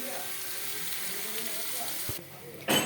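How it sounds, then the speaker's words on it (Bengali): Sliced onions frying in a pan for birista, a steady close sizzling hiss that breaks off briefly near the end before a short louder burst. "পেঁয়াজগুলো ভেজে নেব।"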